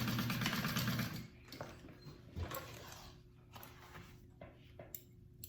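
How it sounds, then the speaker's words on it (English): A sewing machine stitching a 3/8 inch seam on a bowler bag runs with a fast whirring buzz for about a second, then stops, leaving faint handling noises and small clicks nearby. "Doing it at a 3/8 inch seam allowance, and then I'm going to trim it down."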